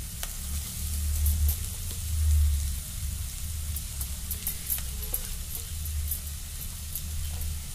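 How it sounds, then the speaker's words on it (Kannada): Onions frying in a pan for carrot palya, a continuous dense sizzle with a low rumbling hiss that holds steady throughout, with no talk. "ಈರುಳ್ಳಿ ಹುರಿದಾವ, ಭಾಳ ಹುರಿಯಂಗಿಲ್ಲ, ನಾನು ಸ್ವಲ್ಪ ಇಷ್ಟ ಹುರ್ಕೋತೀನಿ."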